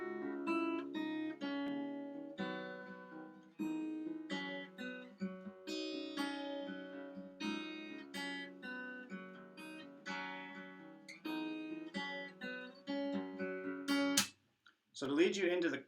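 An acoustic guitar plays the riff of a song with added in-between notes, steady plucked and strummed phrases ringing close and clear with no voice, ending in a brief pause and a final scrape.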